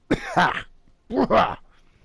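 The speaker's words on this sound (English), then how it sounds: "I clear my throat loudly" A voice in a dating game clears its throat loudly twice, two short, rough, voiced bursts separated by a brief pause.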